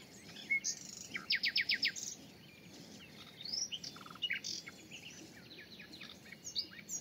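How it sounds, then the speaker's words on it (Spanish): Small birds chirping and tweeting in a vegetable garden, with repeated quick bursts of high calls from several birds over faint outdoor background, no talking. "Esto está todo lleno de pájaros y tal."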